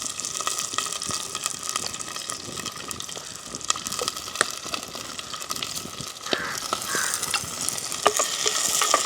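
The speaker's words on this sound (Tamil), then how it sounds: "இந்த வெங்காயம் பச்சை மிளகாய் உள்ளி எல்லாம் பதம் கட்டணும்" Onion, green chili and garlic sauté in a pan with fenugreek and fennel seeds in a village kitchen. A steady sizzle runs throughout, broken by frequent stirring clicks and scrapes, with watery bubbling toward the end.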